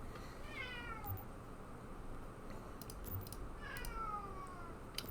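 A pet cat named Captain Casey meows twice, a few seconds apart, close by, over a steady background hiss with faint clicks.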